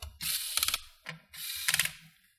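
A screwdriver loosens the captive screws on the bottom cover of an HP Pavilion g7 laptop, giving close, quiet ratcheting clicks in two bursts separated by a short pause.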